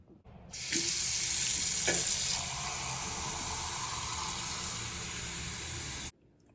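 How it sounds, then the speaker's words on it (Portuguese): Water gushes loudly and steadily from a tap into a mug holding a menstrual cup, starting abruptly and running for about five seconds. The pitch shifts slightly as the mug fills, then the flow cuts off sharply. "Insira o seu coletor na caneca e coloque água até cobri-lo."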